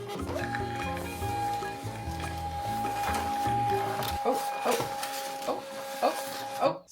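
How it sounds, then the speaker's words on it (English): A small home printer runs close by with a mechanical whirring and a steady tonal whine, rhythmic feed motions, then a series of clicks and taps as the page finishes and the sound stops. "I had the printer the wrong way."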